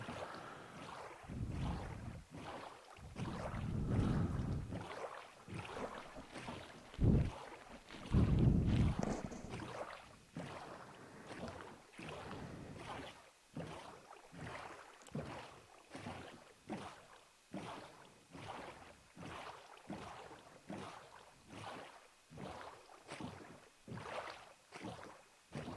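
Boat rowing in Minecraft along a frozen edge near kelp, steady rhythmic paddle strokes repeating about twice a second, with a rushing wind-like water wash underneath; no talking.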